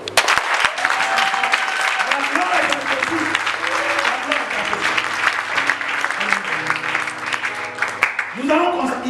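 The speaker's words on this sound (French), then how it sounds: "On acclame." A church congregation claps and cheers continuously, dense applause mixed with shouts and a preacher's voice speaking over it.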